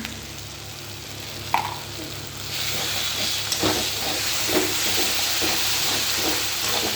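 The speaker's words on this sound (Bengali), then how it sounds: "মশলাটাকে ভালো করে কষিয়ে নেব" Spice paste for a katla fish curry with potato and cauliflower sautés in oil in a pan: a hissing sizzle that swells after a sharp clink, with rhythmic stirring scrapes throughout and no speech.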